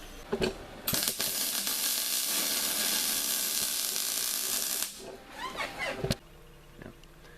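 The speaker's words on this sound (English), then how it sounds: "I'm going to weld it to the end of the tube here" Welding a bearing shell onto the steering column tube of a 1957 Chevy 3100, a steady, close, crackling hiss for about four seconds, framed by short metallic clanks and taps before and after.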